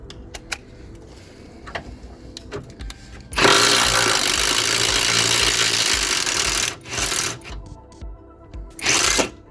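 A swivel socket wrench works a rear spring bolt loose on a London black cab, heard as a few light metallic clicks, then a loud sustained rattling burst of several seconds and a shorter final burst.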